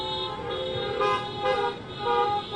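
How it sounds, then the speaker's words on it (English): Car horns toot repeatedly in short overlapping blasts at a teachers' rally, fairly loud, over a background of passing traffic. "all the people that have come out in their cars to honk and make noise"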